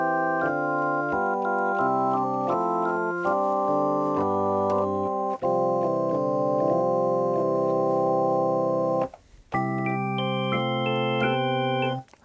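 Church bell voice on a Casio SA-76 44-key mini keyboard plays a sustained chiming melody of layered bell-like tones, loud and alone, with a brief gap near the end before the notes resume.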